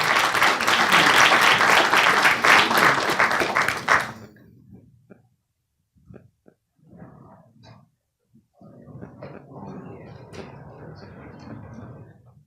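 Warm audience applause for a performing artist at an African American studies panel event: a loud, dense burst of clapping for about four seconds that cuts off abruptly, followed by quiet stretches with a voice talking.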